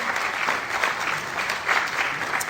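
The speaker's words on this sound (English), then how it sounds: "That deserves another cheer, the wine." Audience at the St Albans Retailer of the Year 2014 awards evening bursts into sustained applause and cheering for the wine sponsor, steady, dense clapping from a large crowd with no speech over it.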